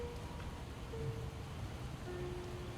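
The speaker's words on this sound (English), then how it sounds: "This rain is really not giving out" Steady rain falls in a game roleplay setting, a soft continuous hiss with faint patter and a few brief tonal sounds in the background.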